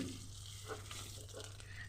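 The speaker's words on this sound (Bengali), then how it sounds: "এরপরে উল্টে পাল্টে লাল লাল করে ভেজে নেব মিডিয়াম আঁচে রেখে" Small mourola fish fry in oil over medium heat, giving a faint, steady sizzle with light crackles over a low background hum.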